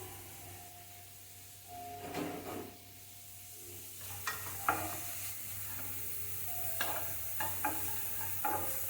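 Vegetables sautéing with salt for lasagna in a pan, a low steady sizzle with spoon scrapes and stirring knocks coming in bursts, close and moderately quiet, with no talking.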